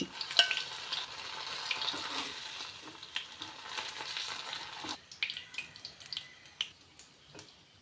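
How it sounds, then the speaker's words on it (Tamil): Boneless chicken 65 pieces deep-frying in hot oil give a steady, soft sizzle with bubbling crackle and a few brief clinks, heard alone at low level. "இதேமாரி பொரித்து எடுத்துக்கோங்க"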